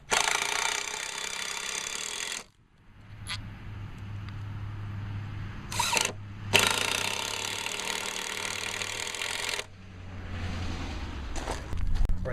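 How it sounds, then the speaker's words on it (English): A power driver screws angle-cut porch roof boards together outdoors: loud, harsh whirring bursts, one short and two long runs with brief pauses, close by, with no talk. "We're just centering it up and screwing it together."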